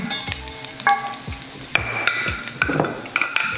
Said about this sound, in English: So we're gonna whisk this butter and flour